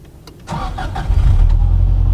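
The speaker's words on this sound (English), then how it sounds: "Go and start the car, it's in neutral." A Subaru Impreza WRX STI Type R V-Limited starts up: a brief cranking whir, then the engine catches and settles into a loud, steady rumbling idle close by.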